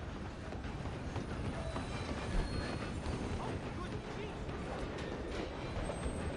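A train runs in a PS4 video game, a steady, loud rumble with rolling wheel clatter and faint squeals that continues unbroken throughout, with no talking.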